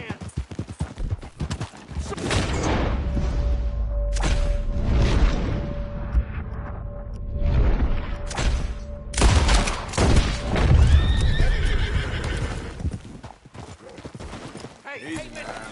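Hooves clip-clop at a steady trot under loud talking, with a horse whinnying and a few booming shots in a busy scene in the video game Red Dead Redemption 2.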